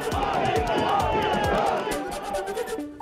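A crowd of BJP workers celebrates an election victory with loud, dense shouting and chanting, voices rising and falling in rhythmic bursts, with a few horn-like tones near the end.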